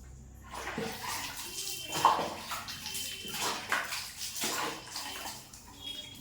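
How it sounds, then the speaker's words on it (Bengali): Water is poured over the body during a morning bath, splashing in repeated close sloshing pours at a steady rhythm. "স্নানটা করবো, গায়ে জল দেবো"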